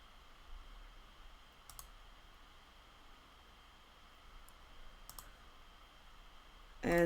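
Mouse clicks while editing video in Filmora: a few sharp, faint clicks spaced seconds apart over quiet room noise.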